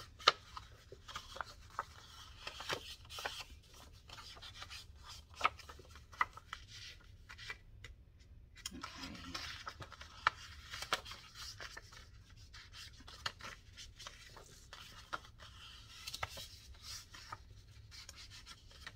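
Scored scrapbook paper is cut, giving quiet, intermittent scratchy rasps and rustles with small clicks, faint and close, without any talking.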